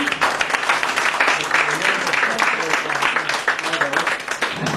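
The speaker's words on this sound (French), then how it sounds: "je vous propose de l'applaudir" An audience at a storytelling and music evening in Brussels claps to welcome a young performer, a dense, fairly close round of many hands with a few voices mixed in.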